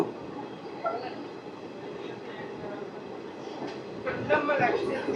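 The Rayagada–Guntur Express rolls along after leaving Gummida, a steady low rumble of wheels and carriage noise, with faint voices inside the coach and louder rattling toward the end.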